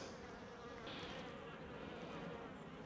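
Dense, continuous buzzing of many honeybees close by at a hive, a steady swarming drone with a slight shift in tone partway through.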